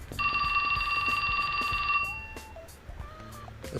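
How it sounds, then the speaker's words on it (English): Phone ringing in the adventure video game 428: Shibuya Scramble, a sustained electronic ring for about two seconds, followed by a few softer tonal beeps and quiet rustling. "That's my phone."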